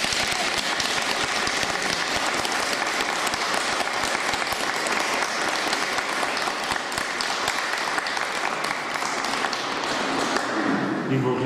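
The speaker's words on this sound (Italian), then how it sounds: "Gli fate un applauso." Continuous, dense clapping fills a church during a Catholic vow renewal ceremony, holding steady throughout before tapering off at the very end.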